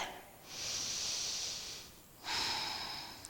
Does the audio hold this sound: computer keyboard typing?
no